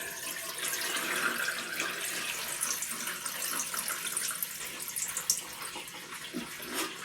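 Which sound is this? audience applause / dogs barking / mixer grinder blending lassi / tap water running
tap water running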